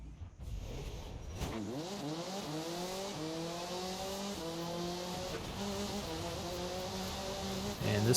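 A race car in Forza Horizon 5 during the San Juan Scramble in the Horizon Wilds roars close and loud, revving up through the gears in repeated rising sweeps, with brief tire squeal as it accelerates.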